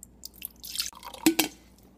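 Leftover coffee poured into a bowl of instant oatmeal: a couple of short liquid splashes and drips, fairly close, with light clinks against the container and no talking.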